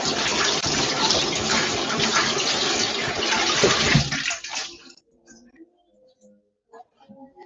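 Tap water gushes loudly and steadily while hands are washed in a home kitchen before cooking okra soup, then shuts off, leaving a few faint drips and handling sounds.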